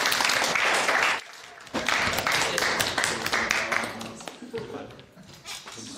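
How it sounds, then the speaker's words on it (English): Applause for a JROTC public speaking presentation, a burst of clapping from a small group that breaks off, resumes and gradually thins out, with voices mixed in. "Round of applause."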